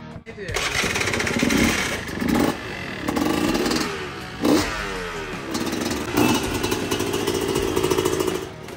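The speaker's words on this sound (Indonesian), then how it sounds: "Ini suara knalpotnya juga berubah guys." A KTM motorcycle's engine revs in repeated bursts after servicing, its rough exhaust roar rising and falling, with a voice talking over part of it.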